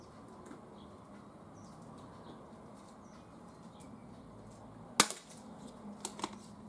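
Umarex UX SPA 100 spring air pistol firing pellets outdoors at a 10-yard target: one sharp nearby crack, followed a second later by a couple of fainter ticks, against a quiet background hiss.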